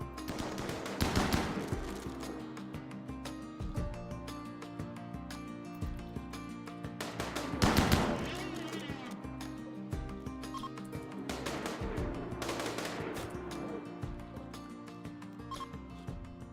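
Colonists firing guns during a fight in the RimWorld video game: sharp bursts of gunfire cut through quieter game sounds, with a few louder volleys spaced several seconds apart.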